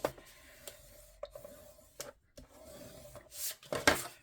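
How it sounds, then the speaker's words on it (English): Paper being folded and burnished for a Halloween-themed craft album, heard as soft scattered rubs and crisp creases, with a few sharper scrapes and crinkles building toward the end; close, quiet, no talking. "I am going to fold and burnish that 1/2 inch"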